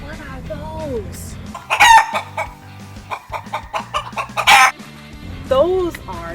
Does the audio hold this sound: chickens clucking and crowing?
yes